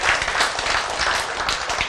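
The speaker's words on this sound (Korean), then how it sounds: "박수!" Audience at a lecture breaks into steady, dense applause, many hands clapping at once for the full length, fairly loud and close with no voices over it.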